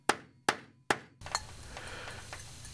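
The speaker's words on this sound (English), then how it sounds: "use the hammer to further drive and set the rivets" A hammer drives and sets belt rivets in an Alligator rivet installation tool held by pilot nails: three sharp, close metallic blows about half a second apart, followed by softer, rougher knocking and handling noise.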